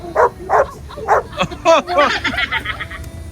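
Several people imitate a dog with a string of short, loud barks and yips, one after another, close to the mic.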